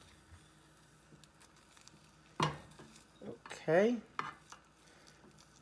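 A Japanese omelette of eggs flipped in a pan, heard as a sharp clatter followed by a cluster of scraping, knocking pan sounds a second later, with a brief spoken word among them against a quiet background.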